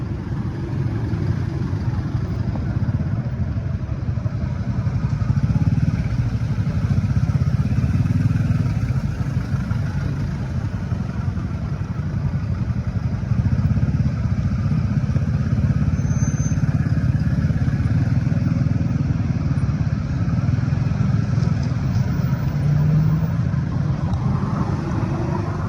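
Motorcycles and cars crawl through a traffic jam in Vientiane. Engine rumble and idling hum build into a steady, continuous wash of traffic noise with no pauses.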